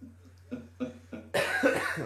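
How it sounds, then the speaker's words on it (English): A few short throaty coughs, then a longer burst of rough, breathy coughing up close. "Made me have to cough."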